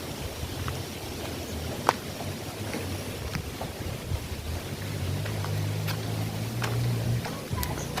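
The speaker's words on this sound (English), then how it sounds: "It's the motorbike that has disturbed our silence." Motorbike engine droning at a distance in a quiet natural setting, a low steady hum that grows louder toward the end, over soft wind and faint ambient sounds.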